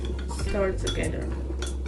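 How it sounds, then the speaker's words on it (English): A utensil stirs peppered steak ingredients seasoned with black pepper in a bowl, giving a short run of metallic scrapes and clinks against the dish, close and moderately loud. "Stir together."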